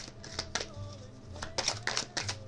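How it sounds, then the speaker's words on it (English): Kipper card deck being shuffled during a reading, a series of quick crisp riffling and tapping bursts, close and moderately loud, with no talk over it. "I forgot to shuffle this deck right here"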